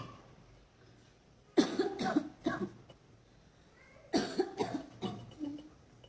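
A child coughs close by in two separate bursts of several harsh coughs each, with a quiet pause between them and no talking.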